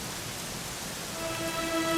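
Steady rain falls in the Dragon Quest XI video game, a constant hiss of drops with a faint tonal music line rising toward the end.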